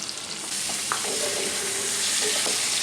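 Potatoes fry with tomato in a pan, the sizzle jumping louder partway through and then holding as a steady close hiss, with a few light stirring scrapes.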